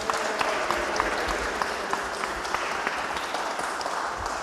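Audience applauds and cheers a church pianist receiving a regional fundraiser award, a dense continuous wash of clapping at steady loudness throughout, with faint crowd noise mixed in.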